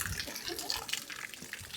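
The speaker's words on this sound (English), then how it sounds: "the fountains are going off now" Garden water fountains at Alfabia Gardens in Mallorca splash steadily close by, a continuous bright spray of falling water with no break.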